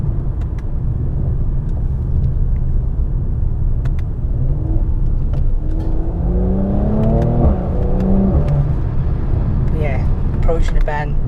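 Engine of a facelift Mercedes-AMG C43 in Sport Plus mode accelerating, a loud continuous rumble with rising revs and shifting tones, while a driver talks over it.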